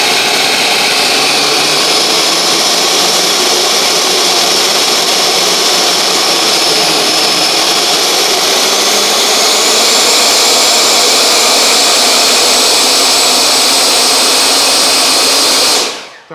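H-King Flycat 70mm 6S electric ducted fan running at full throttle, a very loud, continuous roaring whine held steadily close by before cutting off sharply at the end.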